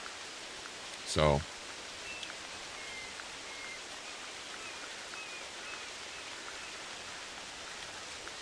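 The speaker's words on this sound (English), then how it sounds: "It's so loud, the rain." Steady rain hisses continuously in theHunter Classic hunting game, a loud broad wash with faint distant calls, briefly interrupted by a short spoken word.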